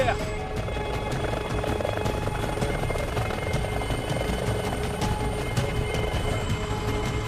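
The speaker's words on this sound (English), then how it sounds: "I didn't know you could fly an helicopter." A helicopter in flight gives a steady, loud rotor and engine roar that fills the whole stretch, with rhythmic blade chop beneath it and voices faintly present in the mix.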